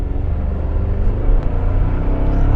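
A 2024 Toyota Tacoma TRD Off-Road pulls away under acceleration, its turbocharged engine giving a steady, loud, dense rumble with a faint rising whine as the turbo spools up, heard from inside the cab.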